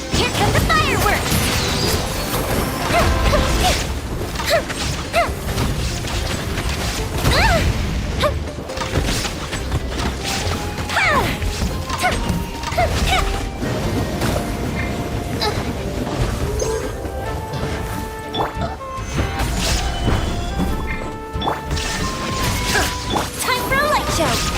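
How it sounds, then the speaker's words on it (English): Video game fireworks burst continuously as a dense barrage of booms, crackles and crashes, loud and sustained, with a voice talking intermittently over the din. "Here come the fireworks!"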